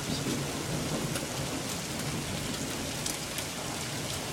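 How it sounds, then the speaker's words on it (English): Heavy rain and hail pour down steadily during a thunderstorm in Ohio, with a dense constant hiss, scattered sharp impacts and a low thunder rumble, and no voices. "It's raining and hailing here."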